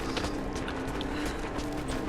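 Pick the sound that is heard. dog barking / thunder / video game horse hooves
video game horse hooves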